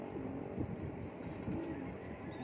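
A racing pigeon coos in low, throaty phrases, a couple of rolling calls heard fairly close against a muffled background rumble.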